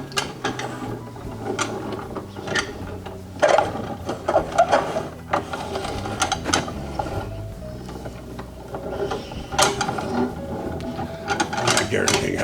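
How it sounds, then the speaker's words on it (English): Etching printing press being cranked by hand in an artist's studio, giving repeated clicking, ratcheting and geared mechanical knocks in an uneven rhythm, fairly close, over a steady low rumble of the room. "A little press. Newsprint on it. And then crank it down through."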